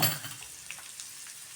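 Chopped onion frying in oil with cumin in a pan, a quiet hiss with a few faint crackles and a brief soft stir near the start, short and low in level with no speech.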